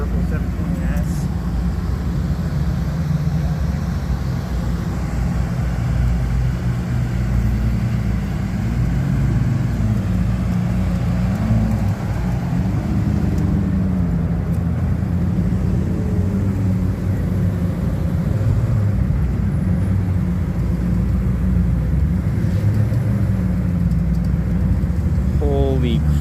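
A purple McLaren 720S sports car rolls in at a Texas car show, its low engine rumble steady and loud throughout, with crowd voices mixed underneath.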